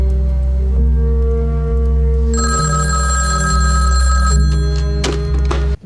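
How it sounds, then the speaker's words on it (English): A telephone rings in a Twin Peaks episode, a loud, sustained electric bell that carries on steadily for several seconds in layered tones and then cuts off abruptly. "There's a phone call."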